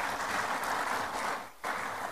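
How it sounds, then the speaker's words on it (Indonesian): An audience at an Indonesian MPR (People's Consultative Assembly) event applauds in a steady, moderately faint wash of clapping that dips briefly near the end and then resumes. "Boleh tepuk tangan."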